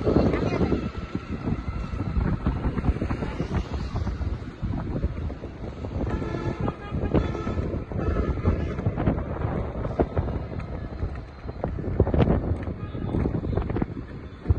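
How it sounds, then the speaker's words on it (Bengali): Wind blows outdoors on a street, a steady rough rumbling gust noise buffeting the microphone throughout, with busy city background sounds mixed in. "খুব সুন্দর একটা বাতাস হচ্ছে"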